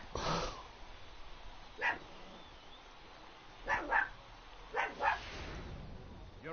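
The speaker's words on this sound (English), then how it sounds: "the dog needs to shut up" An indoor dog lets out scattered single barks and a couple of quick doubles, spaced by quiet gaps, fairly faint against a low background hum.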